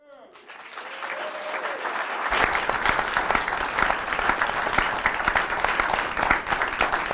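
Applause swells from a NASA town hall audience, starting softly under a speaking voice and then rising into loud, dense, continuous clapping that fills the room for several seconds.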